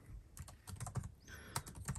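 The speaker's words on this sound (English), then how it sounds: "Let's say you're doing some typing in Excel, for example." Rapid keystrokes patter on a laptop-style keyboard while typing in Excel, quiet and close, with no voices.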